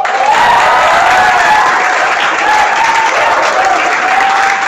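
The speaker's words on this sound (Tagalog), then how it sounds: "palakpakan mo ng matindi si Lord" A crowd breaks into dense, sustained applause with scattered shrill cheers and squeals riding on top, loud and steady throughout, as an audience claps for the Lord at a talk on love.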